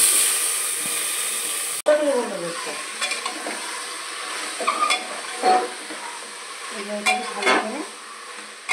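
Spice-marinated soybean chunks sizzle in hot oil with cumin and cloves, with steady frying hiss broken by scraping stirs, and a brief word of speech partway through.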